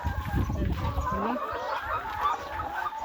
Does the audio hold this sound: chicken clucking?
yes